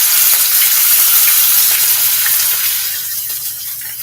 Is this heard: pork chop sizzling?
yes